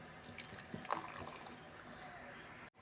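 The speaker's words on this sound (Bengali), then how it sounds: "একটু জল দেব" Water trickles and splashes briefly into a Bengali spice paste of white mustard seeds, green chillies and cashews, a short pour near the start followed by a steady soft wash of sound.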